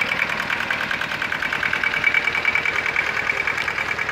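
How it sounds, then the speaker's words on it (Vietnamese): An Iseki TS1610 four-wheel-drive Japanese tractor with a two-cylinder 16 hp Isuzu diesel engine idles nearby, a steady rapid knocking chug with a constant mechanical whine running through it, and no voices. "Thì là động cơ là Isuzu 2 máy 16 mã lực."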